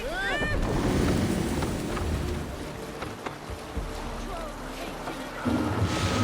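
A Viking longship in Assassin's Creed Valhalla sails with its sail let out, a steady rush of wind and water against the hull, loud and continuous, with voices shouting over it.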